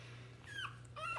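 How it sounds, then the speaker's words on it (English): A young puppy whimpering softly, two brief high-pitched whines close by over a low background hum. "Who's whimpering?"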